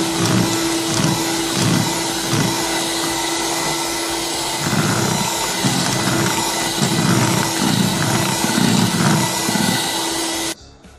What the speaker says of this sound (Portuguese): eu misturo com a batedeira só o leite mesmo ali